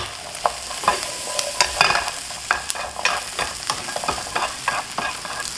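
Onion, carrot, celery and potato for beef stew are stir-fried in a pan, with a soft sizzle under repeated scraping and tapping of the utensil at an uneven pace, close up.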